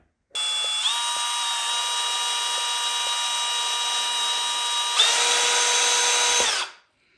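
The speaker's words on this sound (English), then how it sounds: "I'm just going to screw this YakPower through hole plug on" A cordless drill whirs steadily as it drives screws into a YakPower through-hole plug on a Bonafide XTR130 kayak, one continuous run that steps up in pitch near the end before spinning down.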